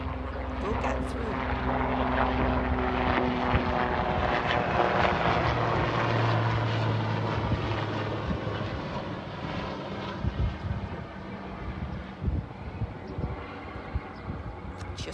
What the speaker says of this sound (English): as that helicopter just went above there